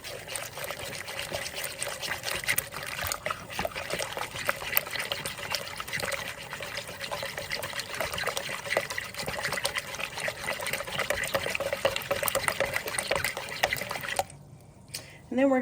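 Bread starter and dough being mixed with a Danish dough whisk in a bowl, a steady wet stirring and sloshing that runs continuously before stopping abruptly near the end.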